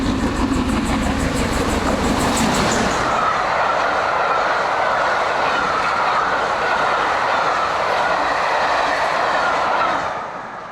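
GWR King class steam locomotive 6024 passes across the Somerset Levels, a loud sustained roar of wheels and rolling stock with rail clatter, a heavier burst at the start before settling into steady running noise that fades at the end.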